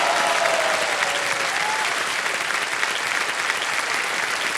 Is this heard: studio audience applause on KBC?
yes